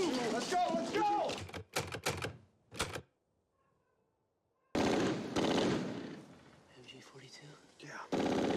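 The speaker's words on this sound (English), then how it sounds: "MG-42?" Bursts of MG-42 machine gun fire from a Band of Brothers war scene rattle in rapid trains with clipped, shouted voices, then go quiet, then more loud gunfire and battle noise follow.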